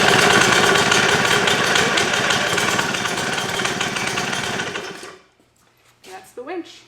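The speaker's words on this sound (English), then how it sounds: "And that's the winch." A powered rope rescue winch runs with a loud, steady mechanical whine and rattle for about five seconds, then stops abruptly, followed by a brief squeal and faint voices.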